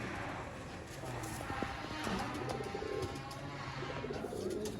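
Rare Sialkoti pigeons cooing in cages, soft low coos repeating against a constant background hiss, with occasional faint clatter and no voices.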